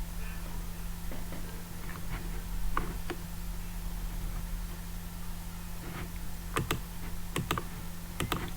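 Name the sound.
typing a password on a computer keyboard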